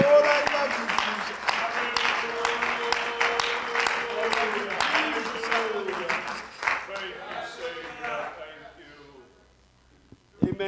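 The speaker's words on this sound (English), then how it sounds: "why don't you clap your hands unto the Lord and thank him for his presence in this house tonight" A church congregation clapping their hands during a worship service, dense rhythmic applause mixed with singing and voices, gradually fading out toward the end.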